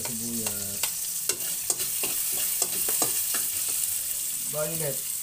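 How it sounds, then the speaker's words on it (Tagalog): Violet onion frying and being stirred in a pan for coconut-milk squid and vegetables, a steady sizzle with repeated scraping stir strokes throughout, close and moderately loud, with brief voiced murmurs at the start and end. "Lagyan natin ng violet na sibuyas."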